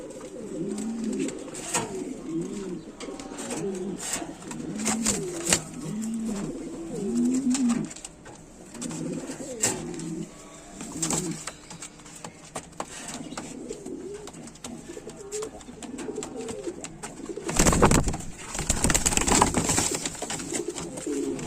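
A large farm-bred pigeon coos in repeated rolling phrases close by while being put into a cardboard shipping box, with handling bumps and a loud rustle of cardboard near the end.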